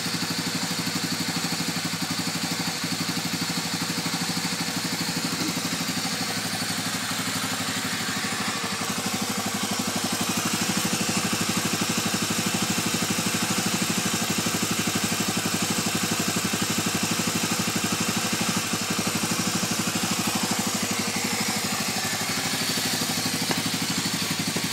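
A 250es motorcycle engine runs steadily at a near idle, with a dense continuous whirring and clattering drone nearby and no voices.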